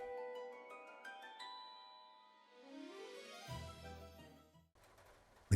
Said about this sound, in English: The bell is about to ring.